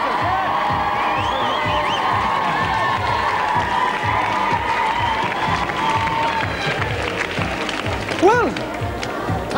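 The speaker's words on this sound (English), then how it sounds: "Come on, a round of applause for our dancers." A crowd applauds and cheers loudly for dancers at a lively indoor event, with continuous clapping, whoops and crowd noise throughout, overlaid with chatter and a few rising whistles near the end.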